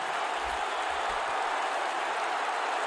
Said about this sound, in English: And this crowd loving it